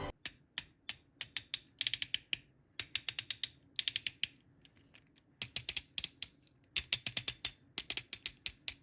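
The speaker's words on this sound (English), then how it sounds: "But before we go too far, have a listen to these Rachets." Ratcheting joints on a Missing Link C-01 Convoy Optimus Prime toy robot click in quick, loud bursts of sharp ratchet clicks, separated by short pauses and heard up close with no talking.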